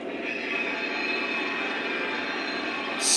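Model train wheels on a Conrail-themed Lionel or MTH layout scrape and squeal steadily around a tight track curve, a continuous grinding hiss with a brighter burst at the end, no talking.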